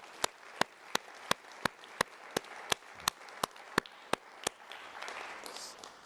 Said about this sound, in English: I'd just like a round of applause for them.